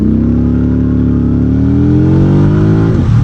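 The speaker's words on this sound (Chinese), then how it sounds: "然后发动机的运行质感也不错" A 2026 VOGE CU625 AMT motorcycle engine running close by, a steady loud hum that slowly rises in pitch as it revs, then drops off sharply near the end, with no talk over it.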